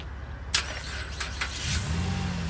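A 2009 Jeep Liberty Limited started by remote starter: a brief crank followed by the engine catching into a low idle, heard close against background noise with a couple of faint clicks.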